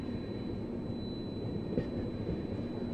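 Ahmedabad Express passenger train running steadily through dense fog near Khajuraho Junction, a continuous low rumble of carriages on track with faint rattles, heard from inside the train without talk.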